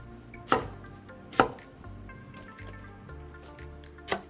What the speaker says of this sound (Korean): 먼저 햇양파 8개를 반으로 잘라 3등분 해줍니다.